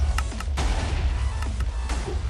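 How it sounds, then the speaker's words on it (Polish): Minecraft redstone TNT cannon firing four TNT at once in the video game: several sharp, loud explosive bursts in quick succession over a constant low rumble, with no talking. "Teraz nam wywala 4 TNT na raz."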